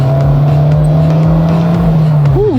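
A used Renault Duster accelerating hard from a standstill, its engine holding a loud, steady droning tone close by, with a brief rising whine near the end.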